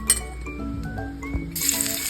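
Oil goes into a hot wok on the stove for Thai curry-powder shrimp stir-fry, with clinks of metal and glass followed by a rising sizzle, heard close.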